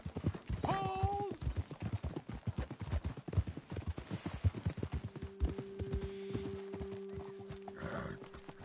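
Horses walking in the Red Dead Redemption 2 game world, hooves clip-clopping in a steady close rhythm, with a brief whinny early on and a low droning tone entering toward the end.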